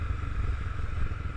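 A Honda CB300R motorcycle fitted with an iridium spark plug runs close by with a steady, rapid engine putter, its rhythmic pulsing unbroken and no voices heard.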